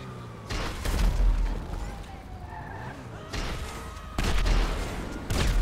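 Gunfire crackles in a GTA 5 game match as bursts of loud shots and booms mixed with vehicle noise and skidding, coming in several clusters spread across the clip.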